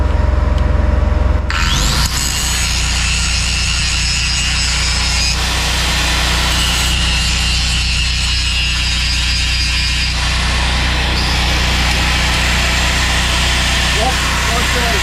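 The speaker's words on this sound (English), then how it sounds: "Glad I brought out the little cordless die grinder." A small cordless die grinder works on a cracked semi-truck tag axle during a mobile welding repair, producing a loud, continuous high-pitched grinding whine that starts abruptly after a brief lull and runs to the end.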